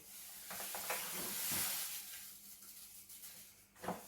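Soft swishing as sugar is stirred into a pot of boiling water for home-brewed beer, with a gentle sizzling hiss underneath and a brief clink near the end.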